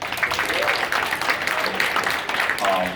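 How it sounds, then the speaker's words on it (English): Steady applause from a crowd fills the whole stretch, dense and continuous, with some voices mixed in underneath. "give yourselves a round of applause"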